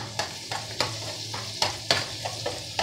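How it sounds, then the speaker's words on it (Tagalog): Onions sauté in a pan for chicken bistek, a steady sizzle of frying broken by regular scraping stirs of a utensil, close and alone with no talking. "Igisa na po natin."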